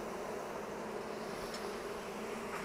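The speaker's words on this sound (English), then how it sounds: "I'm just using the smoke to clear the bees away" Honey bees buzz steadily around an open hive being smoked, a dense, continuous hum close by, filling the whole stretch without voices.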